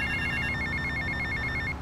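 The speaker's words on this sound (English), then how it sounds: "Erstmal klingelt wieder unser Handy." A mobile phone rings in GTA Vice City, a steady electronic ringtone pulsing in quick repeated bursts for about two seconds, loud and close with no talking.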